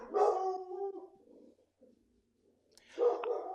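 A pet dog reacts to a film playing on screen with two bursts of barking and howling, the first longer and fading out, the second starting after a quiet gap.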